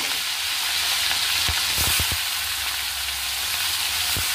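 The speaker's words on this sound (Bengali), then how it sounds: "এবার যে চিংড়ি মাছগুলো আমি নুন হলুদ মাখিয়ে নিয়েছি সেগুলো আমি ছেড়ে দেবো।" Salted, turmeric-coated prawns frying in hot mustard oil in a wok, a constant loud sizzle broken by a few sharp pops and clicks.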